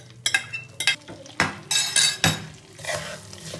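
Vegetables tipped into hot ghee and sugar for fried rice are stirred briskly in a pan, with repeated metal scrapes and clanks of the spoon over a soft sizzle, close and loud.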